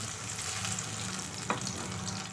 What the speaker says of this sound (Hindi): इसको अच्छे से ब्राउन कर लेंगे।